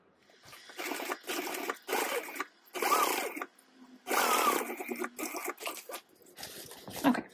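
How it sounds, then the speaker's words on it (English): Domestic sewing machine basting an eighth-inch seam on a fabric tote bag, running in several short bursts of rapid stitching separated by brief pauses, close and fairly loud. "I'm gonna just baste it for the moment at an eighth of an inch."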